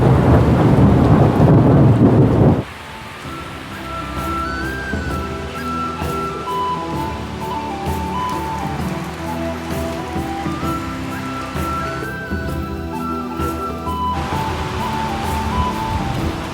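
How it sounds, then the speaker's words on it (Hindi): Heavy rain pours steadily in a mountain setting, with a loud rumble of thunder at the start, then a constant dense hiss of rain on surfaces continuing alone. "आज तो लगातार ये बारिश दिखा रहा है भाई पूरे दिन भर"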